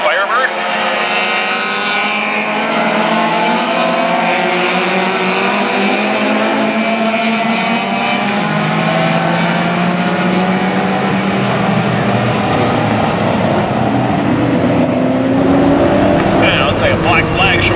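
Closed-wheel race cars, including a big Firebird, roar around turn 1 at Mission Raceway, loud sustained engine drone with shifting pitch throughout, a commentator talking over the racing.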